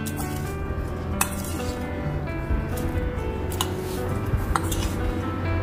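Raw prawns tossed by hand with corn flour, plain flour and dry curry leaves in a bowl for restaurant-style prawns 65: soft squishing and stirring, with a few light clinks scattered through steady kitchen background noise.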